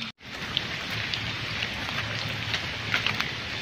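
Heavy rain pours onto a backyard, a dense constant roar of drops on surfaces, loud and unbroken after a brief cut at the start, with no talk.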